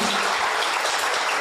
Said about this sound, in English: A huge round of applause for Ahmed.